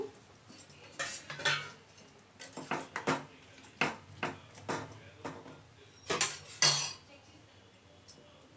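Chopped tomatoes go into a cooking pot and get stirred. A metal spoon clinks and scrapes against the pot in irregular bursts, fairly quiet and close, with brief pauses between strokes.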